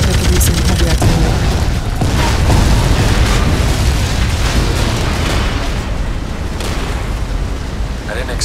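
Gas tanks explode in the game BloodRayne 2, with loud, close booms and crackling bursts over a continuous din of combat, sharp hits around the start and the two-second mark, then rolling blasts that ease slightly toward the end.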